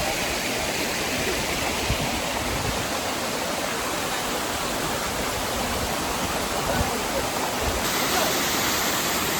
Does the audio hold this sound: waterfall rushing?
yes